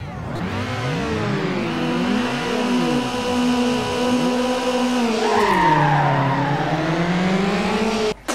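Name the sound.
car skidding and engine from video game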